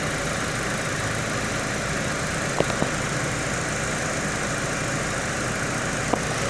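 A 2008 Mazda 6 idles steadily, a broad even engine rumble heard up close, with a couple of faint clicks as the AC compressor engages.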